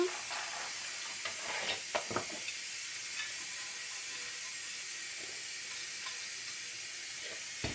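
Semolina for barkouks steams in a couscous-style steamer pot, giving a steady broadband hiss with a few faint clinks and knocks, close and alone with no talk.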